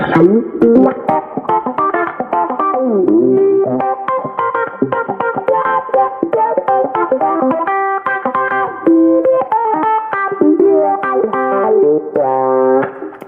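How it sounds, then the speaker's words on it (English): An electric guitar runs through a Crybaby wah pedal in a country jam band rig, playing a busy run of picked notes and chords with a swept, vocal-like tone, loud and continuous with no talking. "we've got the Crybaby Wah"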